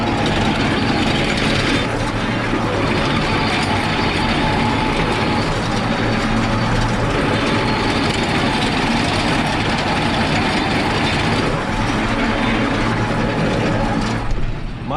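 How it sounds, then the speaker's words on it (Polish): A tractor running at 1000 rpm over frozen ground during sowing gives a loud, steady rumbling rattle with heavy vibration, continuous for the whole stretch with no voices. "aż cały ciągnik dostaje wibracji. Jedziemy na 1000 obrotów"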